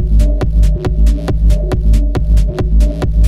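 A simple closed hi-hat ticks in a steady techno pattern over a loud, thumping low beat, each short crisp tick evenly spaced in a repeating loop.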